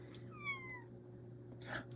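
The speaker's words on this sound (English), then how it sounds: "That was my cat." A house cat gives a couple of short, close meows, a clear rising-falling cry followed by a second brief call, over a quiet room hum.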